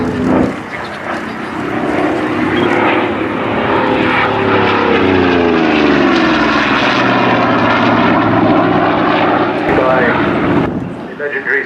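A Goodyear-built propeller warplane flies past at the Culdrose air display, its engine drone loud and sustained with a rising then falling pitch as it passes, under a commentator's voice over the public address.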